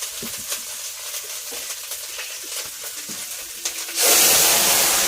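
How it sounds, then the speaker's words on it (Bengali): Curry poured into hot oil in a home kitchen: quiet crackling and spattering, then a sudden loud whooshing sizzle erupts near the end and holds steady, close by. "তেলটা হয়ে গিয়েছে, এবার কিন্তু তরকারিটা ঢেলে দিচ্ছি।"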